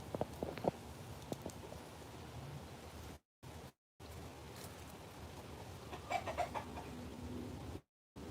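A hen clucks softly and pecks in an outdoor yard, faint short clucks and light taps over a steady hiss of background noise, with brief dropouts and no talk.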